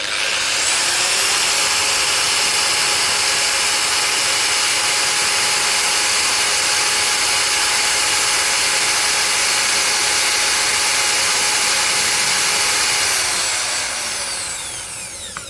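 A DongCheng DSP02-180S car polisher runs steadily at speed setting 6, giving a loud, continuous high-pitched whine with a constant motor tone. It holds unbroken for about thirteen seconds, then begins to wind down near the end, with no talking.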